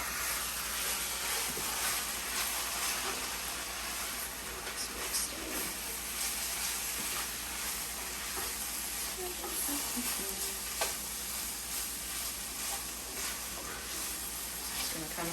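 Peppers and onions with vegan Cajun sausage sizzle steadily in a pan while being stirred, a constant close frying hiss with faint scraping and clinks from the utensil.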